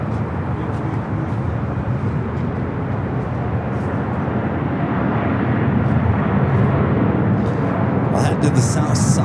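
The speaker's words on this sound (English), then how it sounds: "To the south side is KLM heading back to Amsterdam, rolls down to 25 at right." A KLM airliner rolls down runway 25 right at LAX with a broad, steady engine roar that swells slightly toward the end, under distant chatter.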